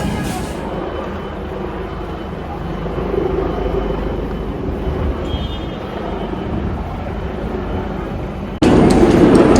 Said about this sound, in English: So there's a helicopter right above